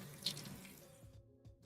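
Tap water runs into a kitchen sink while mushrooms are rinsed under it, a steady close splashing stream that thins out toward the end with a few soft drips and clatters.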